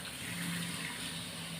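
Water running steadily into onion gravy in a pan on the stove, a continuous close splashing hiss with no pauses, heard alone.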